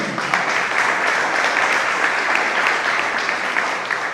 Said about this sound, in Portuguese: você quer aplaudir o senhor com alegria, amém?